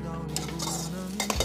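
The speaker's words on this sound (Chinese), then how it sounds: "今天这个小的炉子火比较旺，用这个小锅炒菜" Stir-frying in a small wok over a small stove burning on a strong flame in a rural Shaanxi kitchen: continuous close sizzling with utensil scraping and clinks against the pan, steady throughout.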